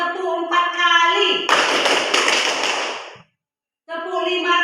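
Hand clapping in an Indonesian classroom counting game, a burst of claps running under a sung or chanted voice, then a short pause before the voice resumes.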